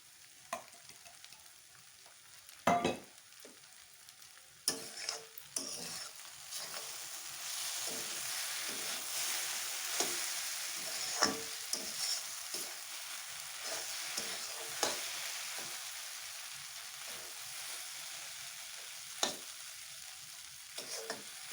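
Maggi noodles frying in a pan with Maggi masala stirred in: a steady hiss of sizzling broken by occasional scraping strokes and clinks of a spoon against the pan, no voices.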